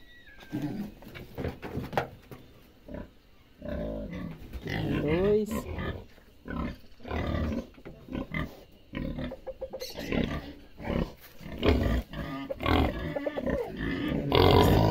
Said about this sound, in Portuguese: Bora lá ver os porcos, tratar deles.